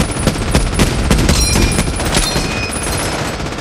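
MG42 machine gun fire in the 1998 war film Saving Private Ryan, loud continuous rapid bursts with rattling shots and impacts filling a dense, chaotic battle soundscape.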